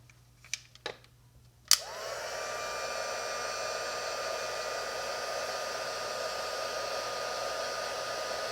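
A few soft clicks, then a heat tool switches on and blows hot air to heat-set ink on paper, a steady loud whooshing hum that runs without a break.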